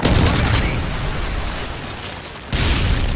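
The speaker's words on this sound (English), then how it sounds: "Friendly Predator missile inbound." A Predator missile strike in Call of Duty MW3 lands as a loud, dense roar of explosive noise, easing slightly before a second heavy burst hits near the end.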